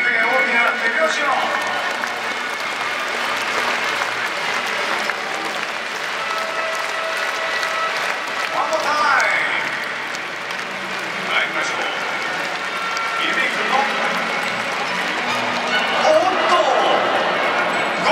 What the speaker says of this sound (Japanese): ビビ君が大きな手拍子を。